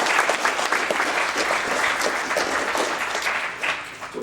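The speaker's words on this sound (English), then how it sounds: "Let's give Mr. Pitts a round of applause." A workshop audience breaking into a round of applause, steady dense clapping from many hands in a room, tapering slightly near the end.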